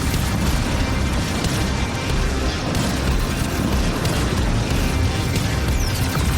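Continuous heavy rumbling with dull booms rolls on throughout, dense and unbroken, like a barrage of distant battlefield explosions.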